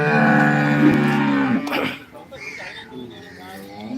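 A cow lets out a long, loud moo up close, followed by quieter shuffling and distant animal sounds of a busy livestock market near Shirdi, India.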